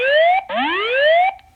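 Notifier NFS2-640 fire alarm system with DVC voice evacuation sounding its tone during a test: two loud, rising electronic whoop sweeps back to back, then a brief fade with no voice.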